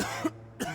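Harsh, violent coughing from a man in a tense horror audio drama, two sharp bursts close to the mic separated by a brief silent gap.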